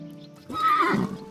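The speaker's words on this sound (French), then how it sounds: "je vais mettre mon cheval un petit peu plus loin" Horse in the video game Medieval Dynasty gives a short, loud neigh with a few hoof clops, close and clear over a quiet steady game background.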